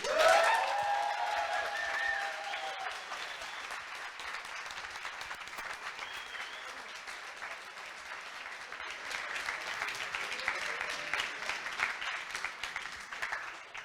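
Sustained audience applause after a coding bootcamp demo day speech in Montreal, a dense roomful of clapping that fades a little and then swells again, with a few voices and cheers at the start.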